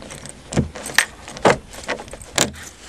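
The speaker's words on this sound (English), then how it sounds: "Door's unlocked." Keys jangle and clack against a car door lock on a 1992 Chevy Lumina in cold weather, a few separate metallic rattles and clicks spaced about half a second apart, close and clear.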